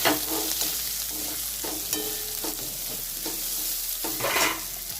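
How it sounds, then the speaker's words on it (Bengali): Grated carrot and beetroot with ginger frying in a pan, loud steady sizzling with repeated rhythmic scrapes of a spatula stirring the vegetables, close up and with no talking. "আদাটা খুব ভালোভাবে ভেজে নিচ্ছি। এরপর এখানে দিয়ে দিচ্ছি কেটে রাখা গাজর"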